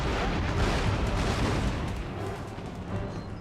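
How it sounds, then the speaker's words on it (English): Cannons firing canister shot in the Empire: Total War video game produce a dense, rumbling barrage of booms and crackling blasts, loud and continuous, fading slightly toward the end. "Those canister shots were perfect."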